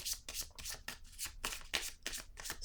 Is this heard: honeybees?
no